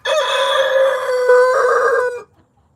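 A rooster crows in a chicken coop, one long, loud, near call with a rising start and sustained harmonic tone lasting about two seconds before cutting off cleanly.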